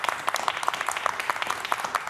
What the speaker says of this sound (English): So please give a round of applause to Bill Federer.